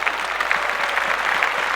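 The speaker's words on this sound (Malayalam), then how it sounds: "നല്ലൊരു കയ്യടി." An audience at a televised Indian music show, about to hear Kerala folk songs, gives a short burst of steady, close applause with densely overlapping claps throughout.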